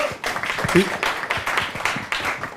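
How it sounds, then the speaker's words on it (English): Audience applause at a live team event, a dense wash of clapping that rises and falls for a couple of seconds with a brief voice cutting through partway. "Let's give Trevor a round of applause too."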